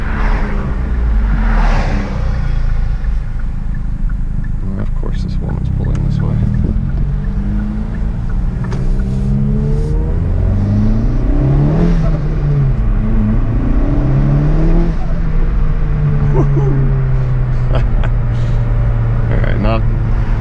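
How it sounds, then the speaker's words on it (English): A Hyundai Veloster N with an SXTH Element intake and its exhaust in quiet mode drives through a neighborhood, its engine droning loudly and rising and falling through several revs while someone talks over it. "So I left the exhaust in quiet mode so you can hear the intake a little bit better."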